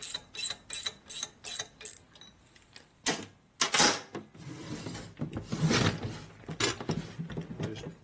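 A wrench torques bolts on a 1979 Harley-Davidson 80ci shovelhead engine during a motor rebuild, producing a run of quick, sharp ratcheting clicks followed by louder metallic clunks and scrapes.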